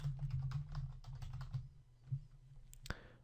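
A computer keyboard is typed on while writing form code, with a run of soft quick keystrokes over a low background hum, then a pause and a couple of sharper clicks near the end.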